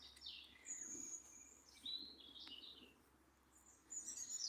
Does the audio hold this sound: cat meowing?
no